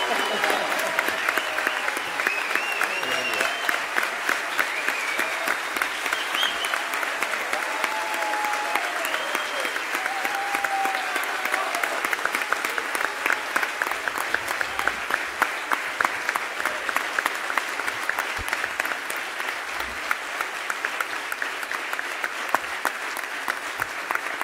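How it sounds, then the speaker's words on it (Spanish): Sustained applause from an audience greeting a former president of Ecuador at an honorary doctorate ceremony, with steady dense clapping and crowd noise that continues throughout. "recibimos con un muy fuerte aplauso al señor expresidente de Ecuador, el señor Rafael Correa"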